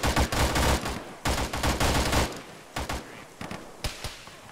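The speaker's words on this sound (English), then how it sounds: "I'm being shot at!" Heavy gunfire in an Arma combat session with the ShackTac group: dense bursts of rifle and machine-gun shots crack loudly for the first two seconds, then come as scattered, fainter single shots and short volleys.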